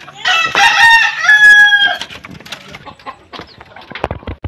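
A rooster-like crow from a white wild junglefowl (labuyo) rings out loud and close, followed by scattered clucks and rustling in an outdoor rural setting.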